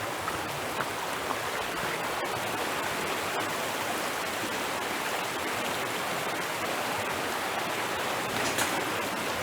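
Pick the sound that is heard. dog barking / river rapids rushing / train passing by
river rapids rushing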